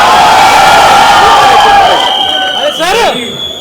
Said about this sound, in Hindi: तालियां बजाइए दोस्तों